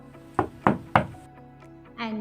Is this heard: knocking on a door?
yes